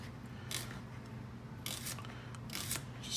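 A kitchen knife slicing straight across shallots on a cutting board, a few crisp cutting strokes in short bursts, close and moderately loud with no talking.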